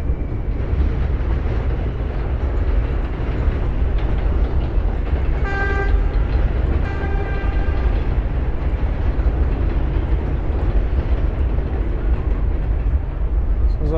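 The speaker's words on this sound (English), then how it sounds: "trains are leaving the station." A subway train leaving a station at Coney Island, Brooklyn, rumbles loudly and continuously, with a brief horn-like tone in the middle and steady wheel noise throughout.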